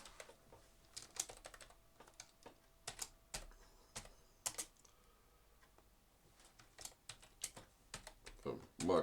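Typing on a computer keyboard while writing an Excel macro: quick irregular key clicks in bursts with short pauses, near and faint, with soft background noise.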